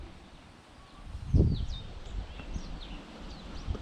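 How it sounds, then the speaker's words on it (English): Faint bird chirps and short whistles dot a quiet outdoor village scene, with a soft thump and low rustling nearby. "You can hear the birds."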